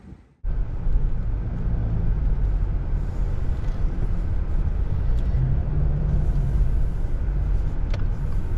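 A 2022 Subaru Impreza sedan with a 2-litre engine drives off, heard from inside the cabin as a steady low road rumble and engine drone that begins after a door-like thump and continues evenly.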